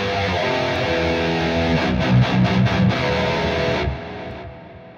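An electric guitar is run through the Neural DSP Archetype Petrucci amp model, heavily distorted: a sustained, thick crunchy chord, then a few quick chugging palm-muted hits, then a fade into a ringing tail. The guitar plays alone, with no talking.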